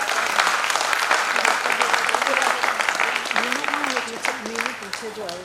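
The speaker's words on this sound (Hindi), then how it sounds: "एक तालियों की गूंज अपने लिए शोभा परिवार।" At a Founders Day celebration, a gathered audience gives a long, dense round of applause, with a voice speaking over it as the clapping continues toward the end.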